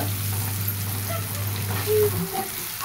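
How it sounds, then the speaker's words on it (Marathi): Vegetables sautéing in oil give a soft, continuous crackling sizzle over a low hum, close and steady, with a light stir near the end. "चांगलं परतून घ्यायचं ह्याला तेलामध्ये. तेलामध्ये खरपूस तळलं की चांगलं लागतंय."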